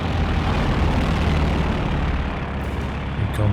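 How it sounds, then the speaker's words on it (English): A recon plane drones overhead in the Company of Heroes 2 strategy game, a steady, loud engine roar that holds throughout with no one talking. "Recon planes, a real nuisance."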